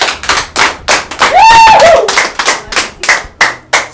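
A church congregation claps in a loose rhythmic pattern of sharp, close hand strikes, with a short tonal squeak or whistle rising over the clapping partway through.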